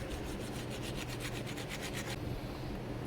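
A table saw blade, an Irwin Marples carbide-tipped blade, gets scrubbed clean with quick, rhythmic back-and-forth rubbing strokes that run for about two seconds, then stop, leaving a steady background hiss.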